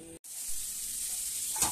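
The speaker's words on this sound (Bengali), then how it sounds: "পটল ভাজা কমপ্লিট, এখন নামিয়ে নিয়েছে পটলগুলো।" Pointed gourd slices frying in oil in a pan at home, giving a steady close hiss of sizzling after a brief cut near the start, with a short louder spit of oil near the end.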